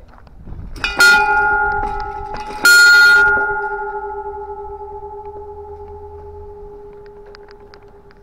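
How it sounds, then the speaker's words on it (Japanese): A wish bell at the Kurusu no Umi seaside viewpoint is struck twice, about two seconds apart. Each strike rings out loud and clear, and the metallic tone hangs on and slowly fades over several seconds. "せっかくだから私も、 鐘を鳴らしておこう。"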